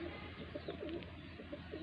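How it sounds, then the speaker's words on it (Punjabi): A pet pigeon at a fancier's loft gives soft, low coos, faint and brief against a steady hum of background noise. "ਆ ਇੱਕ ਹੋਰ ਕਬੂਤਰ ਆਇਆ ਜੀ"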